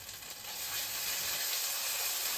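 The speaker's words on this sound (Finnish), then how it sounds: "Kuten kuuluu, niin sihisee kovasti." Chicken sizzles loudly in a hot wok, a steady dense hiss that fills the space continuously and close up.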